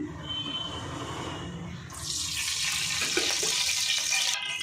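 Cooking oil pours into a hot kadai for mutton curry, a soft trickle at first, then a sudden, louder hissing sizzle that holds steady to the end.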